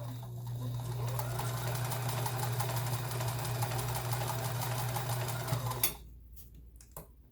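A Kenmore sewing machine running a stretch stitch, a fast steady mechanical whir with rapid ticking that runs for several seconds, then stops and leaves a few faint clicks.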